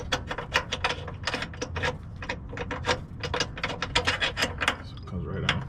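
Ratcheting wrench loosening a rusty bolt on the lower control arm of a 2005 Toyota Prius, a rapid run of close, sharp metallic clicks in uneven bursts.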